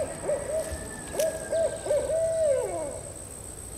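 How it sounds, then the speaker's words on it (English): A barred owl hoots in a rhythmic series of calls, clear and moderately close, against a quiet background. "We have these really cool barred owls here."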